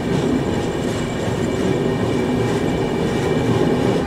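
Jagannath Express train running through the night, a steady loud rumble of wheels and carriage noise with faint rhythmic rail clatter, continuous and close from inside the moving train.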